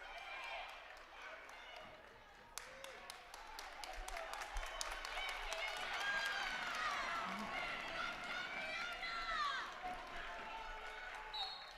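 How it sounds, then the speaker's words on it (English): Crowds on both sides of a high school girls' district finals basketball court cheering, a sustained roar that swells midway, with squeaking sneakers, a ball bounce and a commentator talking over it. "Hearing both sides of the court cheering on their team"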